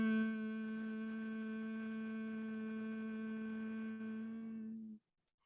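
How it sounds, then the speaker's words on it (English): During a yoga session a voice chants a long, steady hum for the throat, one sustained resonant tone held for about five seconds and then cut off, alone and clear. "Here we do the sound hum"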